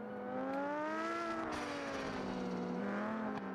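Formula Three race cars at the Italian Grand Prix scream past in a continuous high-pitched engine whine, the pitch sliding up and down as they accelerate and shift, loud and steady throughout.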